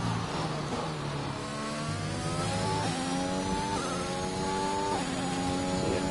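A race car engine revs hard through a hot lap around the Austria circuit in a racing video game, steady and loud, its pitch climbing and dropping sharply at each gear change and corner.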